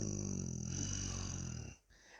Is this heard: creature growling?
yes